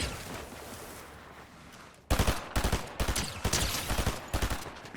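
Rapid bursts of gunfire hit the player in a Fortnite Zero Build match, starting abruptly after a low rumbling lull and continuing as loud, repeated volleys of shots.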